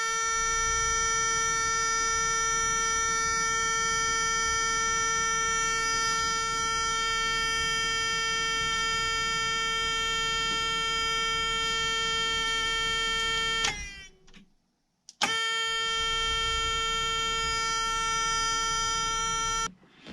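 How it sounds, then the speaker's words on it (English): A Peterbilt 359 truck's warning buzzer drones loudly and continuously, cutting out briefly twice before resuming, with a rich harsh harmonic tone and no speech. "Sorry about the buzzer,"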